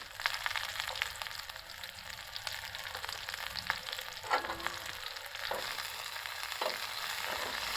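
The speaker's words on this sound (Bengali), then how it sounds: "পেঁয়াজটাকে একটু সামান্য করে ভেজে নেব। এখন দিয়ে দিচ্ছি কাঁচামরিচ।" Chopped onion and green chili fry in a pan with a steady, close sizzle and occasional scrapes of stirring throughout, no voices.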